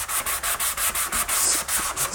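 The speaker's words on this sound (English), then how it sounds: "So I'm gonna do two levels of sanding." Coarse 60-grit sandpaper rasps across a surface in steady, evenly spaced back-and-forth strokes, about four a second, close and loud with no talking.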